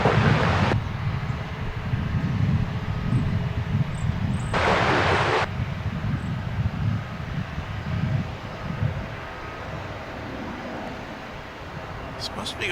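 Boeing 737 jet at DFW airport, bound for McAllen, Texas: a steady low engine rumble with broad wind-like noise, fairly distant and continuous, with brief bursts of wideband hiss.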